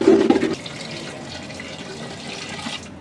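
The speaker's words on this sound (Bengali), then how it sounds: "এখন আমি একটু নাড়া দিয়ে পানি দিয়ে দিব।" Water is poured into a spice mixture in a pan for a beef and lentil curry: a loud splashing rush at first, settling into a steady sizzling hiss close by.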